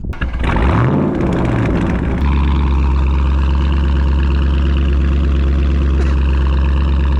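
A loud car exhaust blares as the car pulls away, revving briefly before settling into a heavy, booming, steady drone while driving.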